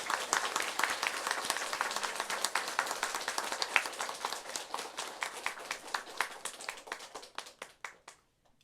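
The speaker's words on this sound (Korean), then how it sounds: "축하의 뜨거운 박수 부탁드립니다" Applause at a Buddhist ordination ceremony on Buddha's Birthday: a soft, steady wash of many hands clapping that thins into slower, separate claps before fading out.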